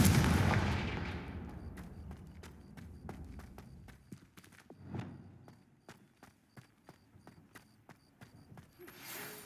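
A Confringo fire spell blast in Hogwarts Legacy erupts as a loud, booming burst, then decays into a run of rapid, evenly spaced mechanical clicks and rattles that fade out without speech.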